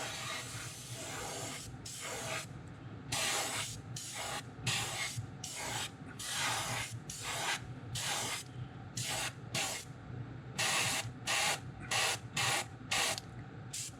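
Short bursts of aerosol spray paint hiss in quick repeated passes as light coats go onto a Wiggle Wart fishing lure, each burst a few seconds long with brief gaps, close and steady, no talking.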